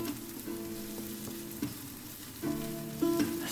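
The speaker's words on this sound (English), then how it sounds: "I've heated some olive oil in a pan and I'm just cooking one onion" One onion cooking in heated olive oil in a pan gives a steady low sizzle, broken by a few scraping stirs and light utensil clinks, close and unaccompanied by speech.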